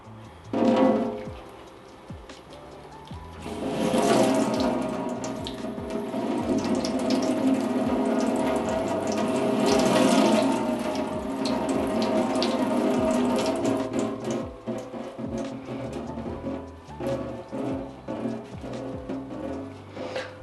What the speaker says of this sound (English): Just rinsed it off a little bit because you can see how much dirt came off actually in the first initial rinse.